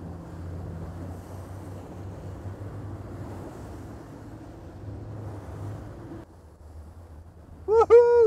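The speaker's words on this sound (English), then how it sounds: "Here comes the next wave." A boat pounds through rough, big-sea waves, a steady rush of water and wind buffeting the microphone, the hull noise dropping off near the end before a brief, louder burst of higher, tonal sound.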